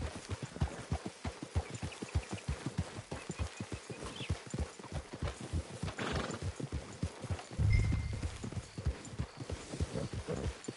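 A horse in the Red Dead Redemption 2 video game clops steadily on hooves, with a loud whinny partway through, close and clear with no talk.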